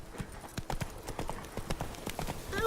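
The horse Roach trotting in The Witcher 3, a quick, even run of hoof clip-clops on hard ground, close and steady for a few seconds with no talking.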